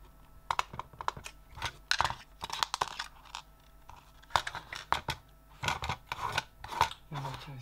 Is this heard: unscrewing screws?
yes